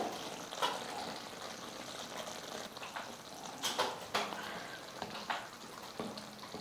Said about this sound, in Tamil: பாருங்கள், குழம்பு நல்லா கொதிச்சிடுச்சு